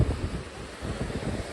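Stormy wind buffets the microphone as surf rolls in at Dumas beach, a dense, continuous roar of gusts and breaking waves, heard briefly and alone.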